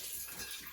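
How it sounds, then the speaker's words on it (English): Water runs steadily into an emptied gravy jar in a home kitchen, a brief, close, continuous splashing pour heard on its own. "What I'm going to do is put a little water in the jar,"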